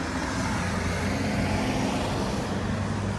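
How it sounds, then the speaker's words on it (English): Continuous road traffic noise on the Sligo Road in Enniskillen rushes by nearby, a broad steady roar of passing vehicles with a low engine rumble underneath. "I'm sorry about the road noise."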